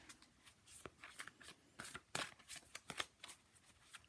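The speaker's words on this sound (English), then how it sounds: "I will usually just shuffle like this" Tarot cards are shuffled by hand in quick irregular bursts, crisp riffling flicks and slaps close up and fairly quiet, with no talking.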